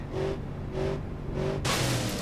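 A Ranger van's engine in the driving game BeamNG Drive surges in three rhythmic revving pulses, then breaks into a loud broadband rush.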